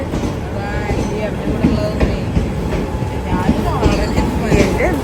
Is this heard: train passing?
yes